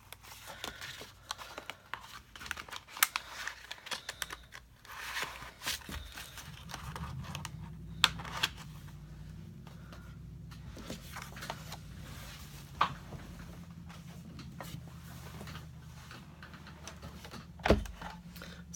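A Big Shot die-cutting machine is cranked to cut little paper cupcake shapes for a Stampin' Up! card, giving a steady low grinding rumble with scattered clicks and taps, close and moderately loud, with no talking.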